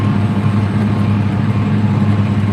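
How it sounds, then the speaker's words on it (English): A tractor engine runs while it drives along a field, giving a loud, steady low drone with no change in pace and no speech over it. "Believe it or not, I am actually driving this tractor."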